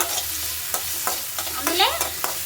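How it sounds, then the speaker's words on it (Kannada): Tomatoes and mushrooms fry in oil, giving a steady close sizzle punctuated by several sharp spoon or spatula scrapes and clacks against the pan, with a faint low hum underneath. "ಒಂಚೂರು ಇದು ಹಿಂಗೆ ಎಣ್ಣೆಯಲ್ಲಿ ಫ್ರೈ ಮಾಡ್ತಾ ಇದ್ರಾಗ ಘಮ ಬರುತ್ತೆ."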